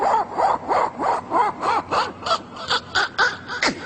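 A voice imitates a zipper being pulled on a t-shirt for a comedy routine: a quick series of about a dozen rhythmic, raspy zipping strokes that speed up slightly toward the end.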